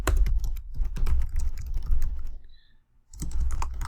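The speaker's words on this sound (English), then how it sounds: "So type your reflection here." Quick, uneven clatter of keys on a computer keyboard, typed close by in bursts with a brief pause before the tapping picks up again.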